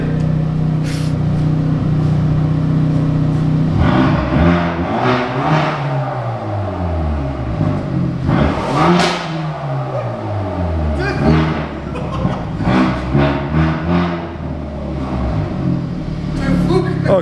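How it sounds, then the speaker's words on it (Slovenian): A car engine revs repeatedly in a parking lot, rising and falling in loud sweeping bursts close by, with short idle gaps between pulls. "Ok, dosti turiranja."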